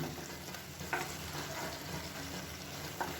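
Egg masala frying lightly in oil for a quick egg roast, giving a steady soft sizzle with faint stirring clicks, close and moderately quiet with no talking.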